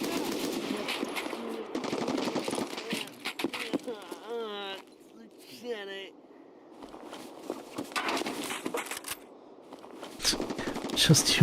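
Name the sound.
gunfire in video game Escape From Tarkov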